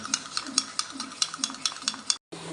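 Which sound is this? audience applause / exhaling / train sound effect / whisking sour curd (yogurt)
whisking sour curd (yogurt)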